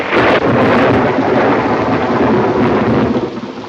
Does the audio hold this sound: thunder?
yes